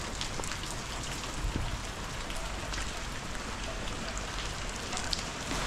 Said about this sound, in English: Hopefully the rain eases off at some point before I get completely soaked to the bone.